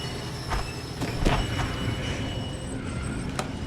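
A tram passes close by with a steady low rumble, a few rhythmic wheel clicks and a thin squeal from the rails, rolling evenly through the whole stretch.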